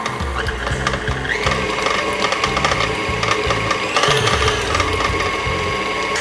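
A close electric mixer runs at high speed through cream cheese icing. It gives a busy, clattering, rapidly pulsing mechanical whir that stays loud and steady, with no talking over it.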